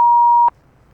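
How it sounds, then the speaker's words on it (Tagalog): One steady electronic timer beep, a pure tone lasting about half a second that cuts off abruptly, loud and close over faint room noise, with no one talking. "May timer."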